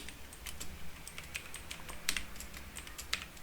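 Typing on a computer keyboard while entering text in Microsoft Word, a steady run of close, crisp key clicks with a few sharper strikes and no talk.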